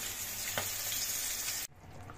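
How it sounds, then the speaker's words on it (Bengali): Fish sizzles steadily in hot oil in a pan on a home stove, a dense continuous frying hiss that cuts off sharply near the end, with no talking. "এই যে মাছ ভাজা বসিয়েছি"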